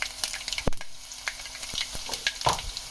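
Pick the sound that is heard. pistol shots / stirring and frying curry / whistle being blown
stirring and frying curry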